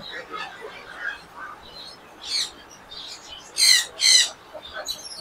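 Macaw parrots at a crowded animal shop in a city market, calling with a few harsh bird squawks and chirps, two loud close calls near the middle over a murmur of background voices and chatter.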